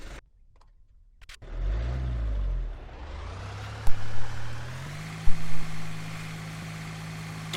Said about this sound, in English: External power unit should come on now. You'll hear it start up outside.